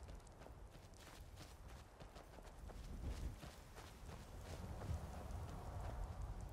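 Horse hooves clip-clop steadily on the ground in the Skyrim video game, a soft continuous run of beats under faint wind, quiet and somewhat distant.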